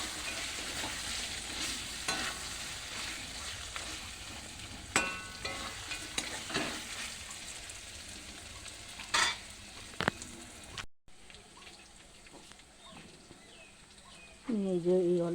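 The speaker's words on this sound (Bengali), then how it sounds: "আদা বাটাটা দিয়ে দিলাম, এবার আমি অনেকক্ষণ কষবো।" Ginger paste is sautéed in a pan, giving a steady crackling sizzle with sharp scraping clicks as a spatula stirs it, and a brief quieter pause near the end.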